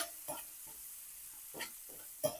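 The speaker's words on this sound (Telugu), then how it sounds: "వీటిని మంచిగా ఆనియన్ కొంచెం బ్రౌన్ కలర్ వచ్చేంత వరకు దీన్ని వేపుకుందాం" Onions with fenugreek and curry leaves frying in oil for a bandakaya (okra) pulusu: a soft, steady sizzle broken by a few sharp spoon scrapes and stirs at irregular moments, close and fairly quiet, with no talking.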